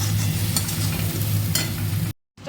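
Onion, tomato, ginger, cumin, coriander and meat masala stirred and sautéed in oil for a prawn malai curry, a steady close sizzle with scraping strokes that cuts off abruptly near the end.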